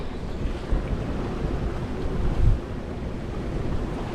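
Broadband wind and wave wash on a sailboat reaching in 20-25 knot winds off Denmark between Samsø and Grenaa, steady and close with microphone buffeting and a couple of louder surges, no voices.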